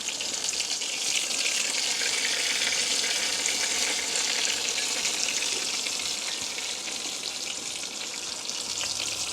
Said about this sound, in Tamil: சின்ன நண்டா 2-3 போட்டு பொரிச்சு கொள்ளலாம்.